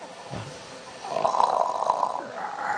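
A dog snores nearby, its breath rasping loudly through a few slow, rough inhales and exhales.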